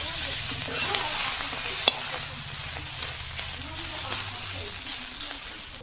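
Flat beans frying in a pan with onion, a soft continuous sizzle and low background rumble with occasional faint utensil clicks.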